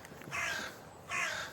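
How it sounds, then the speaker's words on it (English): Crows give two loud, harsh caws outdoors, each about a third of a second long and separated by a short pause. "the birds are so loud sometimes"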